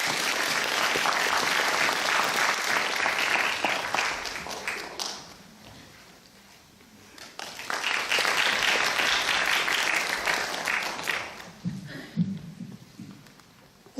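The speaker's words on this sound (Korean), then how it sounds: "큰 박수로 모시겠습니다." Sustained applause from an audience at a student disability-rights presentation contest, loud and dense, briefly dipping before surging again, then tapering off with a few scattered claps at the end.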